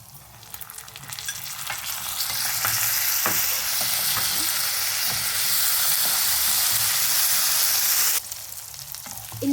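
Coriander seeds and spices sauté in a pan for a bitter gourd podi, a steady loud sizzle with scattered stirring clicks that holds for about eight seconds before easing off near the end.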